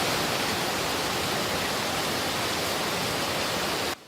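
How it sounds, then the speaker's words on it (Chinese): Heavy rain pours over farm fields in Hsinchu's Beipu area, a dense, steady roaring wash of water that holds constant and loud before cutting off abruptly at the end. "大雨直直落，已经看袂清楚倒位是路，倒位是田。"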